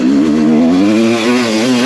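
A big-bore-kitted motorcycle revs loudly, its engine note rising and falling in a wavering drone, heard as playback from an old recording.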